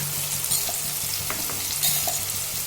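Garlic, ginger and coriander paste frying in a pan, a loud continuous crackling sizzle with a few light stirring taps, close up and with no voices.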